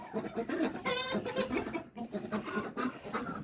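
Rooster clucking steadily in a farmyard coop, a close and continuous run of throaty clucks and calls heard on its own.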